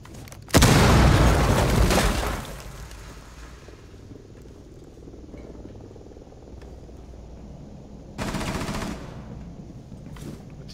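Gunfire in the video game Rainbow Six Siege, a loud burst of rapid shots with booming impacts, then quiet, then a second shorter burst later.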